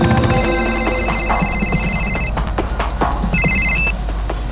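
A telephone rings in a Hindi crime drama scene, its bell-like tone sounding in two bursts over a busy, loud background with no talk.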